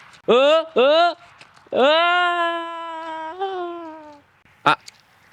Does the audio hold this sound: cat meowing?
yes